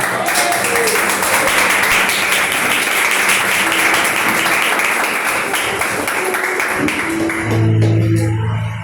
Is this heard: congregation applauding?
yes